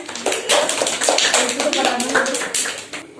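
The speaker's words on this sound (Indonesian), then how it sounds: "tepuk tangan" Schoolchildren in a classroom clap their hands together in a brisk, lively burst of overlapping claps lasting a few seconds, with young voices mixed in.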